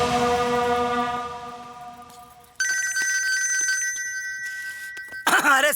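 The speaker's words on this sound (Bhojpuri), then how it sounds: "अरे समधी जी का फोन हो।" A telephone rings in a home scene from a Bhojpuri family film: a sustained bell-like tone fades out, then a bright electronic ring sounds steadily for several seconds, ending with a brief warbling burst, with no talk over it.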